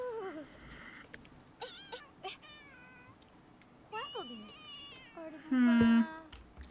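A cat in The Sims 3 meows several times in short, clear calls, with a few longer drawn-out cries standing out over quiet game ambience.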